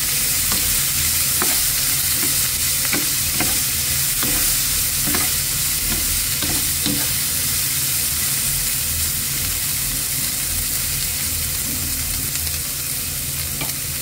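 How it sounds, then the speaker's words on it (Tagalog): Vegetables for bihon guisado are stir-fried in a hot pan, a loud continuous sizzle broken by regular scraping strokes of a utensil, near and steady throughout. "Medyo lutuin lang natin ng konti ang mga gulay"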